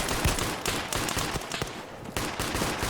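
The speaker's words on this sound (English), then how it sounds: "yeah, he was firing at my gun." Gunfire in a Chernagorsk military video game battle, rapid bursts of sharp shots and machine-gun rattle, some close and punchy, others more distant, continuing in uneven volleys without talk.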